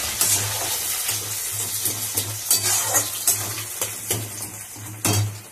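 Onions fry in hot oil tempered with cumin seeds and bay leaf, a steady close sizzle with scraping stirs and utensil clinks recurring throughout.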